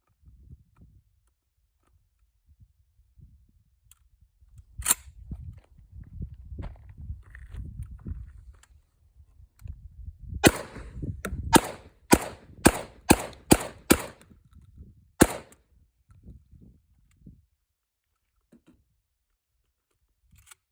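A Kalashnikov KS12 shotgun fitted with a V6 muzzle brake fires, first a single sharp report, then a quick string of several loud shots in succession, with handling rustle in between and one final shot after a pause.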